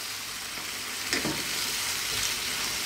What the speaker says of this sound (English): Let's keep this going just for another 2 minutes, stir all the time.